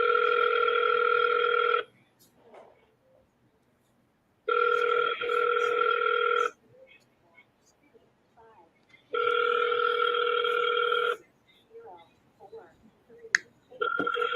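An outgoing phone call ringing back through the line before reaching U.S. Cellular voicemail, with three and a bit evenly spaced ring tones separated by quiet gaps and faint background noise.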